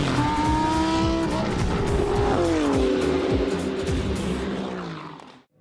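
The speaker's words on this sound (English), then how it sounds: "We are underway and racing in the GT Winter Series" GT race cars at the Barcelona circuit in a Winter Series race, several engines screaming close by with sliding pitches as they pass, tire squeal cutting in, then the noise fading out at the end.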